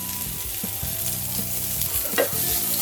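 Pieces of rohu fish frying in hot oil for a curry, a loud continuous sizzle close by with a low steady hum beneath and a few light clinks of a utensil, no voices.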